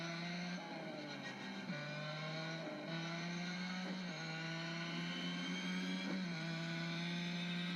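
Corvette C7.R race car in a racing video game: a loud, steady engine drone that holds high revs, dips briefly at gear shifts and climbs again, close and alone without talk.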